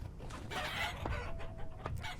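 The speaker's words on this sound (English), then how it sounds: "My chickens were doing really well." Chickens cluck in the Vintage Story video game, several short clucks and a brief crow-like call mixed over a steady ambient game background, moderately close and fairly quiet.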